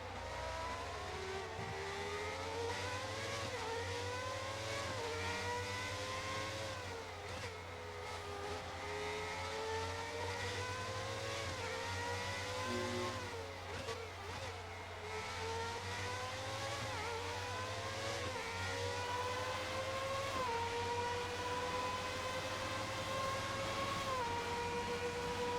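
A 1990 McLaren Formula One race car engine from the F1 2019 game, screaming continuously at high revs with repeated gear-change rises and drops in pitch, loud and alone for the whole stretch.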